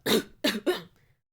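Three sharp coughs in quick succession, close and fairly loud, followed by a faint breath.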